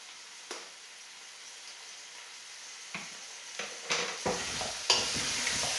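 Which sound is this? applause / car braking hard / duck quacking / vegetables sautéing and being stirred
vegetables sautéing and being stirred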